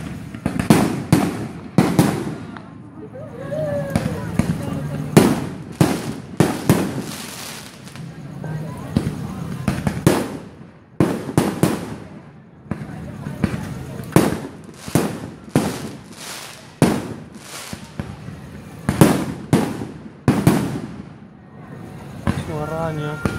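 Fireworks launched into the air, with repeated loud bangs and crackling bursts in an irregular series, while people talk and exclaim between the explosions.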